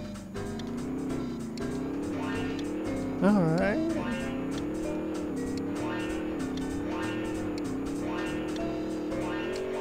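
A car engine hums in the Rocket Robot on Wheels video game, its pitch gently rising and falling and briefly warbling as it drives, with someone talking over it.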